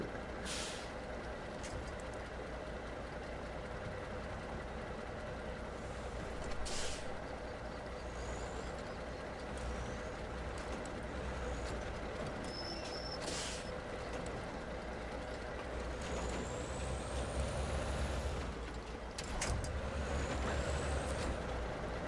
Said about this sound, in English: Except when you got a giant truck, you got to try to turn around that corner.